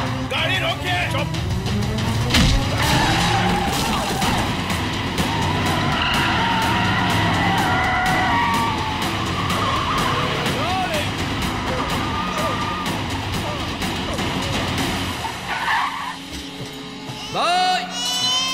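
A car in a Hindi-dubbed action movie chase speeds and skids, with a continuous loud engine roar, screeching tyre squeals and crashes layered with dramatic music and shouting voices over roughly eighteen seconds.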